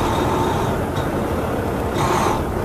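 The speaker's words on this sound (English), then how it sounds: "That's the dual exhaust for you." A 2015 Mack CXU613 truck engine rumbles through dual exhaust, a loud, continuous, deep droning roar close by with a slight swell near the end and no talk.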